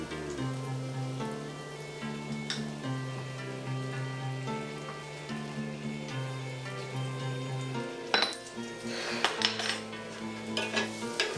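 Flour stirred into onions and garlic in oil in a pan for gravy: soft continuous sizzle with scraping stirs, and a burst of sharper spoon clinks against the pan late on.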